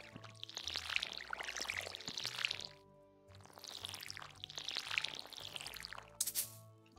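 A watering can pours water onto crops in the farming game Stardew Valley. The splashing pour swells twice over a musical background, with a short pause between the bursts and a bright chime near the end.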